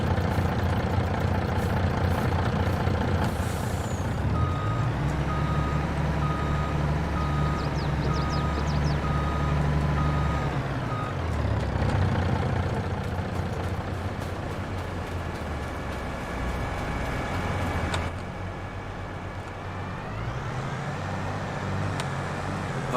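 In-game sound from Farming Simulator 22: a mulcher working a field turns and reverses, its engine droning steadily while a loud, regular reversing beep repeats over the machine noise for much of the stretch.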